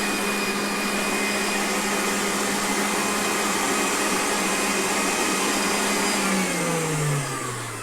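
Electric mixer whipping chestnut-cream cake filling for a Christmas-tree number cake, a steady loud motor whir with a high whine that holds throughout, then dips in pitch as it slows near the end.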